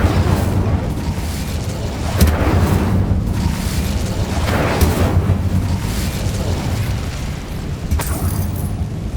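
Fire spell being cast in the Hogwarts Legacy video game, giving a loud, continuous roaring whoosh with a few booming bursts over about nine seconds.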